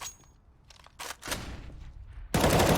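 Bursts of SMG gunfire in Counter-Strike: Global Offensive, with scattered shots followed by a sustained, loud stream of rapid automatic fire close by.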